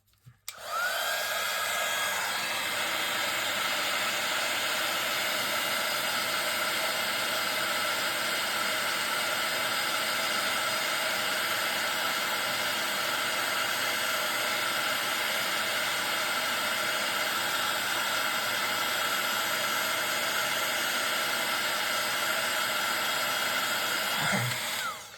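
A heat tool blows hot air onto a craft figure for a Gummiapan advent project, a steady loud broadband whoosh running nearly unbroken for the whole stretch with no talk.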